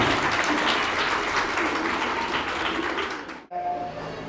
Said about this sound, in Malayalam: അവർക്കൂടെ അർഹമായ ഒരു കയ്യടി ഒന്ന് വേഗം നൽകിക്കേ